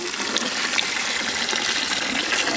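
Fresh water poured steadily into a home cooking pot with ground chili paste, coriander, mint, ginger-garlic paste and tomato, a continuous close gushing splash without pause.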